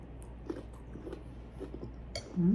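Close, quiet chewing of crunchy mango with bagoong, soft irregular crunches and bites over a low background hum, ending with a brief louder sound.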